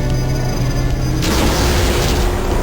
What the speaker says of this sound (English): Look at this 3D explosion effect.